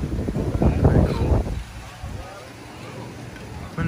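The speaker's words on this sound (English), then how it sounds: "Windy day." Gusty wind at a beach resort in Kapaa, Kauai, Hawaii buffets the microphone in a low roar, strongest at first and then easing, with a voice briefly heard at the start.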